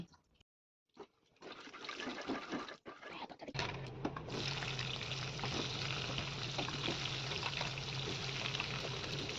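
Tap water runs steadily while raw chicken meat is washed, a continuous hissing stream after a few clattering handling sounds, fairly close.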